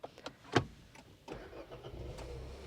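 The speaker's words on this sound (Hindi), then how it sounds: "मैं गाड़ी स्टार्ट कर लेता हूँ।" A Renault Kiger's engine starts after a few faint clicks: a sharp crank bursts into life and settles into a quiet, steady idle, heard from inside the cabin.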